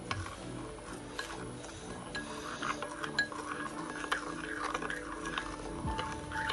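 A spoon mixing yeast with sugar in a bowl, giving quick, repeated clinks and scraping ticks at close range against a faint background, with no talking.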